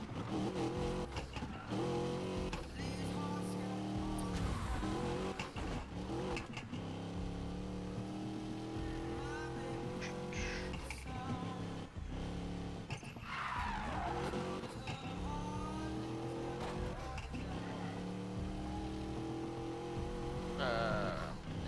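Cars in Need for Speed Payback racing away from police, engines revving and shifting through repeated rising pitch sweeps with tyre skids, loud and continuous with no talk.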